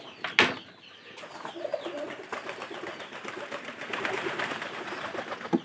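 Pigeons kept for sale at a home loft coo softly in low, repeated calls. Wing flutters, rustling and a few sharp knocks sound close by in a busy but quiet space, with no voices.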